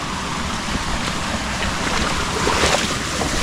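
Water pouring from a small mini waterfall in a garden, a steady close rush of flowing, splashing water with a faint wind-like hiss and no speech.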